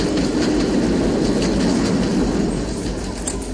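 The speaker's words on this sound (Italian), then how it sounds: "Ferma il treno." A runaway train on a dead-end track roars steadily along its rails, a loud, continuous rumbling clatter with faint wheel squeal and clicking joints, close and unbroken throughout.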